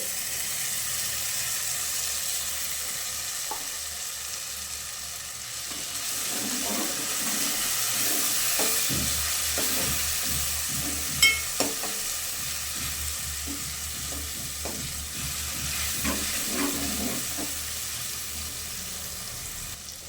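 Besan flour and turmeric sizzle and fry in a pan while being stirred, a continuous hiss broken by scattered scraping and clinking strokes at close range, with no talk.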